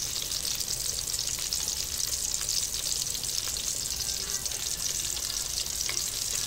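Bangus fish steak fries in oil with a steady, dense sizzle that stays close and even throughout, with no one talking.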